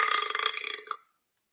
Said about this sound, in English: Hopefully you heard the belch